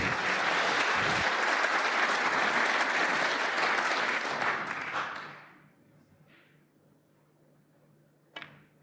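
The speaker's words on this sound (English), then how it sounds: "Thepchaiya already applauding." A snooker audience applauds in an arena, a full, dense round of clapping that holds for about five seconds, then fades into quiet with a couple of faint, isolated knocks afterward.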